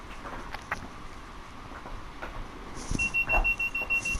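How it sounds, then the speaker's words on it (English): A train's DSD alarm in Train Sim World sounds as a steady, high electronic tone in the cab, starting partway through over a low running rumble and a few clunks. "It's a DSD alarm."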